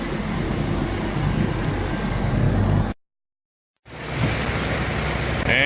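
Steady rain pours at an East Bay race track, a dense, even hiss that breaks off in a brief silent gap and then resumes at the same level.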